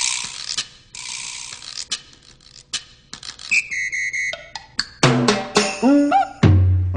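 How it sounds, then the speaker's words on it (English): Percussion sounds from a BOSS DR-880 rhythm machine fire one after another: sharp clicks, ratchet-like rattles, bell-like tonal hits and whistling, descending pitched tones. They are close, separated by brief silences, with no talk. "if I go to the last bank, I even have more percussion sounds"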